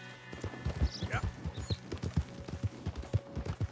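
Horse hoofbeats in Red Dead Redemption 2, a fast rhythmic clip-clop of galloping hooves close up, with creaking tack and a brief whinny-like sound partway through and no talk.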